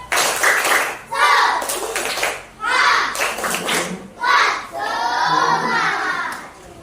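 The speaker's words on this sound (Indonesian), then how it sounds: "Tepuk semangat." A classroom group of children does the rhythmic 'tepuk semangat' spirit clap, several short bursts of patterned clapping and chanting voices close by, separated by brief pauses.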